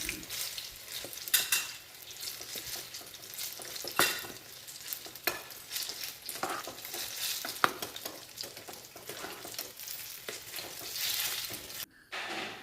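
Chopped capsicum, beans and carrot sautéing in a pan for fried rice, with a faint continuous sizzle and frequent scraping and clinking of a stirring utensil against the pan, no talk.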